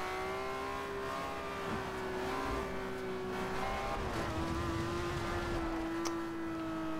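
A car in the Forza Horizon 2 racing game cruises along at a steady engine drone, holding a sustained even hum with slight pitch shifts as it drives, close and continuous with no talk.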